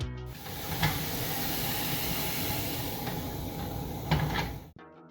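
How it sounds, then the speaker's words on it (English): A loud, steady sizzling hiss of mushrooms frying in a hot pan with spices, with a couple of brief clatters, close up and continuous. "it's time for a quick sizzle check"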